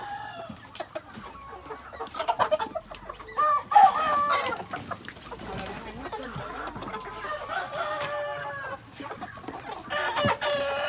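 Chickens in a poultry coop cluck and squawk continuously close by, with a rooster crowing partway through and scattered bird calls; faint voices talk in the background.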